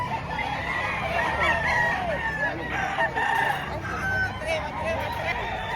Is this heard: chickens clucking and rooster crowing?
yes